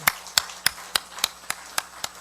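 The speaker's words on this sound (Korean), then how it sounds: "우리 하나님 앞에 영광의 박수 올리겠습니다." A church congregation at a Friday prayer meeting claps in unison, eight or nine crisp, evenly spaced claps in a steady rhythm.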